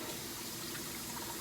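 Water for washing makeup brushes gushes steadily from a tap, a continuous even hiss of running water with no talk over it.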